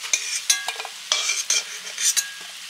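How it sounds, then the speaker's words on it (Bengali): Fried potatoes are stirred and lifted out of a frying pan, a series of about seven sharp scraping and clattering spatula strokes over a light sizzle, close and with no talking. "আলুগুলো ভাজা হয়ে গেছে,"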